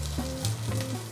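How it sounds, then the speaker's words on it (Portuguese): Onion pieces frying in very hot olive oil in a preheated pan, a steady loud sizzle and crackle close up with light stirring, no talking. "É importante que o azeite esteja bem quente na hora que pomos a cebola."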